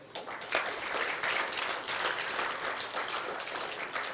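Audience applause in a college lecture hall, a dense, steady wash of clapping that holds at an even level throughout.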